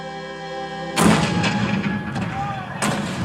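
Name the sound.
cannon fire, Fort Sumter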